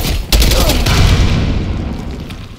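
A grenade blast in the Call of Duty: Black Ops 6 campaign lands as one heavy, close boom that rolls into a long rumbling tail, with scattered gunfire crackling across the background.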